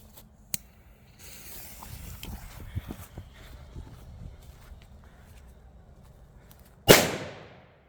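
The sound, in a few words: S3 firecracker exploding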